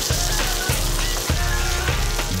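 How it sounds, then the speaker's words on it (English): A pork chop fries in olive oil in a hot pan, a loud continuous sizzle and crackle close up, punctuated by a few sharp spits and pops at regular moments. "Hot pan. Olive oil. It's really important to get the chop and roll it down the back of the pan."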